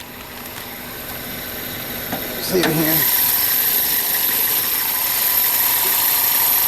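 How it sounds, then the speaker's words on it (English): A 1998 Toyota Corolla VE with a 16-valve engine and very high mileage idles steadily with the hood open, a constant mid-level hum under a man's brief speech, with a short clatter partway through. "Right now I currently have it run. The vehicle is running, but I think it sounds pretty good."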